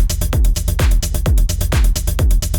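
Modern techno groove with a pounding four-on-the-floor kick with pitch-dropping thumps and busy hi-hats and percussion on top, loud, driving and steady with no voices.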